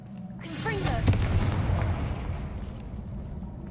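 A Confringo blasting spell goes off in Hogwarts Legacy, a single heavy explosive boom with a rumbling tail that slowly fades, backed by swirling magical whooshes.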